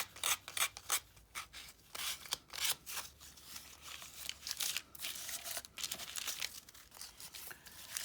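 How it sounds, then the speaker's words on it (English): Wooden journal tags sanded around their edges by hand, giving close, steady rasping scrapes in quick repeated strokes with no talking. "You sand around the edges a little bit, kind of age them."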